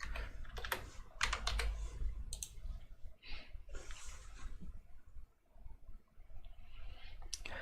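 Rapid clicking of a computer keyboard as a password is typed on a Linux Mint Cinnamon machine, bursts of close keystrokes with short pauses and no talking.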